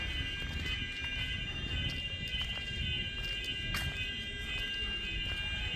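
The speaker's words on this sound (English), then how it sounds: "Somewhere the alarm went off and doesn't stop." An alarm rings on without stopping in a street in Brive-la-Gaillarde, France, a steady, sustained tone held at an even level for the whole stretch over faint city background.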